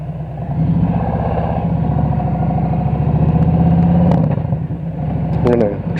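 A motorcycle engine runs steadily on a motocamping trip along unmarked campground roads, giving a close, continuous rumbling drone with slight rises in revs and a brief clatter near the end.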